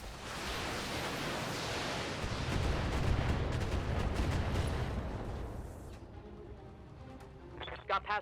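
Long-range missile salvo from the BattleTech video game, heard as a dense, loud rushing roar of launches and impacts that swells and holds for about six seconds before fading into quieter tail noise with a couple of short tones at the end.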